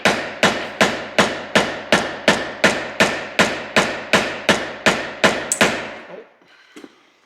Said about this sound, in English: now you keep hammering it